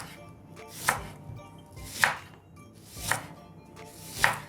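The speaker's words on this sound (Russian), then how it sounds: "Лук нарежем тонкими перьями." A knife slices an onion into thin strips on a board, four evenly spaced chopping strokes, fairly quiet and close, with no talking.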